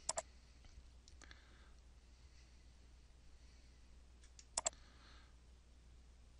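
Sharp mouse clicks in quick pairs, one pair at the start and another near the end, with a single softer click between, over quiet room hiss.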